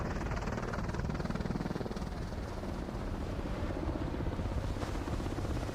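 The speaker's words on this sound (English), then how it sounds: "They call it the Pelican, and it's their search and rescue helicopter." A Pelican search and rescue helicopter's rotor, 62 feet in diameter, thuds in a fast, steady rhythm under a loud engine whine, close and continuous throughout, at an air show.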